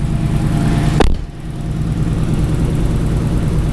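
A warm turbocharged BMW E46 328 idles with its oil hot, giving a steady low mechanical rumble with one brief sharp transient early on, then settling back to an even idle.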